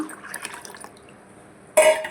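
Tamarind water poured from a vessel while cooking a light Tamil Nadu sambar: a short, close splashing burst of liquid near the end, after a quiet stretch of faint kitchen sounds.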